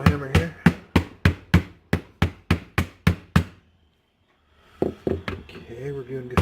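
Rapid, loud hammer blows strike a truck canopy on a Toyota Tacoma, about a dozen evenly spaced hits, a brief silence, then a few more irregular knocks with some voice mixed in.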